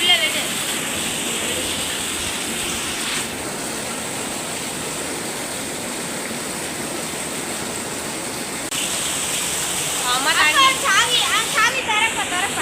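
Floodwater rushes in a constant loud roaring hiss near the listener, with voices talking over it now and then.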